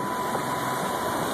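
A new Beta marine engine runs steadily aboard a sailboat off San Diego, a constant close drone with a faint tonal whine and no variation over the brief stretch.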